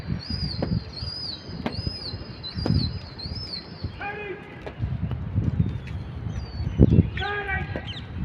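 Bursts of wing flapping from several pigeons taking off and passing close by, mixed with chirpy whistles and someone talking in between.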